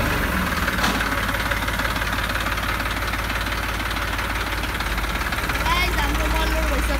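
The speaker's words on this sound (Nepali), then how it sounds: "सो अब यो ट्र्याक्टर चाहिँ खाली छ, यो ट्र्याक्टर चाहिँ राख्दिउँ है," A New Holland tractor idling nearby, its engine giving a steady rumbling, knocking chug throughout, with someone talking over it.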